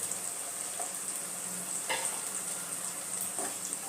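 Turmeric and Kashmiri chili powder fry in a pan with a steady, close sizzle, broken by a few soft stirring scrapes; no voices.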